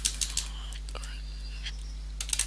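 Keys on a computer keyboard are tapped in a few quick, light clicks at the start and end of a short quiet stretch, heard close but faint.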